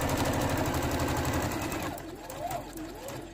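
Sewing machine running a short back stitch while boxing a corner on fabric, a steady fast mechanical whir that is loud and close, then slows and softens toward the end.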